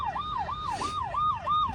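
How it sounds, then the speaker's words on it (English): A TOBBI kids' ride-on electric police car toy plays its siren: a fairly faint, rapid rising-and-falling electronic wail that repeats about five times, with no other sound. "so this will turn the siren on"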